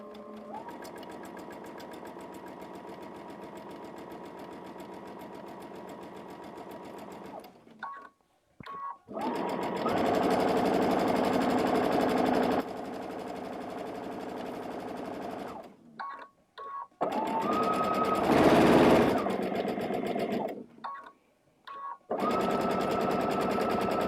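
A sewing machine stitches with a rolled hem foot, a close steady mechanical whir that starts slow, then runs in faster bursts broken by brief pauses and stops.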